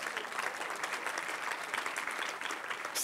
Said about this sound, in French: Ouais, on peut applaudir.